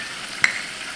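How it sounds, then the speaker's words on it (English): Flour whisked into butter in a hot pan makes a short soft sizzle with a single sharp metallic tap of the whisk partway through. "And whisk it until golden brown, which should take about a minute."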